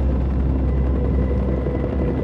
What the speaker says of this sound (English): did one of the helicopters sweeping the site actually crash?